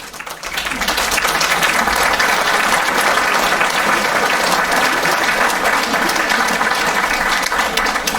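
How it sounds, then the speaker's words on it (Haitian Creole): A large audience applauds loudly and continuously, a dense, even wash of many hands clapping that swells in within the first second and holds steady to the end, with no voices standing out. "il a un pile pouvoir mériter pour ta ballon bel applaudissement, un ballon applaudissement, battement"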